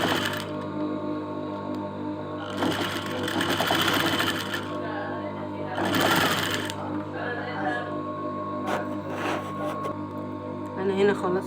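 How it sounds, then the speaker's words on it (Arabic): A sewing machine stitches edging onto a bed sheet, its rapid mechanical whirr running steadily close by, swelling in louder stretches while someone talks over it. "كده انا خيط الكورنيش على الملاية"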